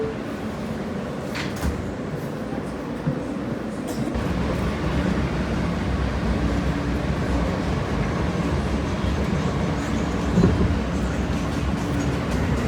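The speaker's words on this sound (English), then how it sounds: "This is the Coney Island Stillwell Avenue bound F train via the D line." An NYC subway F train bound for Coney Island–Stillwell Avenue, running via the D line, gives a steady, loud rolling rumble that swells slightly after the first few seconds and carries on without a break.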